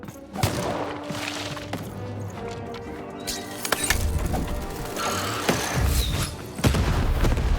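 A cannon fires in the video game Lost in Random, booming several times amid game music and thuds, with heavy low impacts recurring through the passage.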